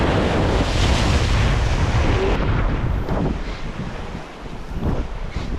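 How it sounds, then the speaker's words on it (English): Large waves surge over shoreline rocks close to the water, a loud, continuous rushing roar heavily mixed with wind buffeting the microphone, easing slightly midway before swelling again. "large waves suddenly surged over him"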